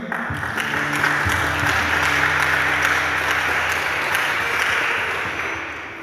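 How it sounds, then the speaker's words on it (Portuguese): A church congregation applauds the gospel reading in a dense, sustained wave of clapping over a held musical tone, fading slightly toward the end. "Beija a palavra de Deus e aplauda que é viva."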